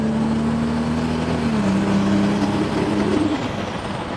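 Toyota Supra MK4 engine idling and shifting pitch as heard from inside the cabin, a steady low drone with a tonal hum that dips and rises, close and continuous.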